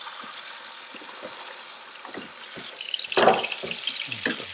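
Cold tap water runs over a batch of arugula in a kitchen sink, a soft splashing flow that grows louder and busier partway through, with scattered light knocks and no voices.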